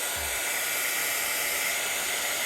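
A hair dryer blows steadily on alcohol ink laid on a paper card, producing a loud, unbroken airy roar that runs the whole length of the clip with no voices.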